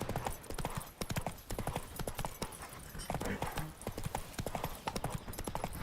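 A horse's hooves clip-clopping in The Witcher 3 video game, a steady rhythmic stream of sharp close hoof strikes at a brisk gait, continuing throughout with faint background sound.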